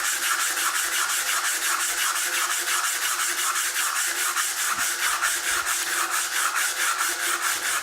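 Abrasive paper rubbing steadily against a turned wooden piece held on a stationary lathe, a close, continuous scratchy sanding with a regular back-and-forth pulse throughout.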